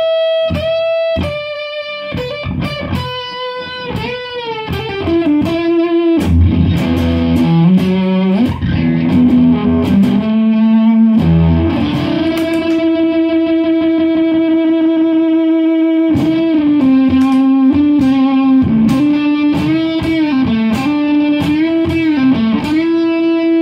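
A heavily distorted electric guitar through a Big Muff fuzz pedal, playing sustained notes and bends that ring out loudly, with a short chord stab at the start.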